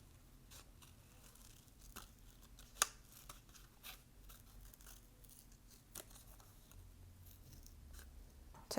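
Scissors cutting out a paper image topped with an epoxy sticker, a quiet series of irregular close snips and crisp paper rustles, one sharper cut standing out, with no talking.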